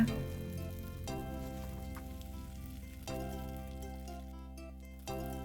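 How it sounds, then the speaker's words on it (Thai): Radish (turnip) cake sizzles while frying in a pan, a soft continuous crackle heard beneath louder background music. "ทอดต่อจนหมดเลยนะคะ"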